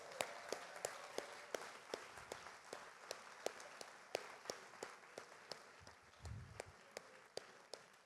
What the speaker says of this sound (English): Please join me with a big round of applause for our amazing jury